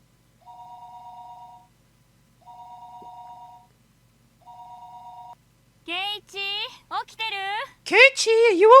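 A video game telephone rings in three evenly spaced bursts, clear against silence, before a voice starts talking.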